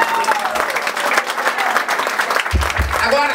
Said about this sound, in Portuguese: Uma grande salva de palmas para o júri.